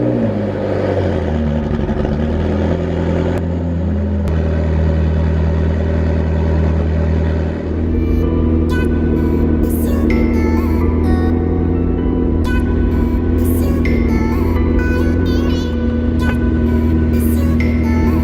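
A sports car engine idles loudly with a deep, steady rumble after a cold start, with occasional sharp clicks and ticks later on, heard beside an idling Ferrari.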